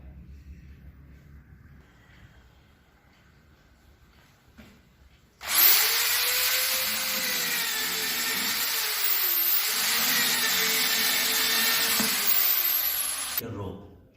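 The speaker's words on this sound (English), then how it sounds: "Here also similarly you drill 2 small holes." A power drill whirs loudly and steadily for about eight seconds as it bores small holes in a tyre for a homemade swing, after a quiet stretch, then stops abruptly.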